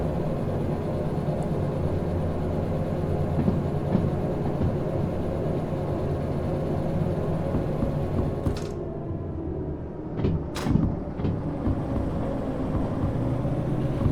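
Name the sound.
long train running, from the video game Derail Valley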